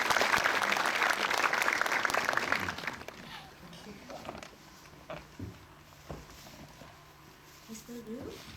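Large audience applause at a Hong Kong film opening ceremony in a cinematheque, loud dense clapping for about three seconds before tapering off into quiet room noise with a few scattered sounds.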